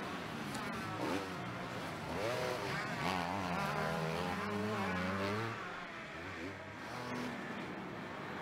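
Kawasaki motocross bikes racing at Hawkstone Park, engines revving and droning at a distance in a continuous blur of rising and falling pitches, with a commentator talking over them.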